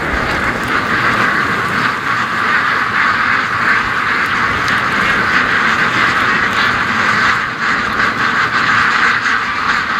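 Ducks quack repeatedly during a duck feeding run, their calls half-buried in a loud, continuous roar of strong wind gusting across the microphone.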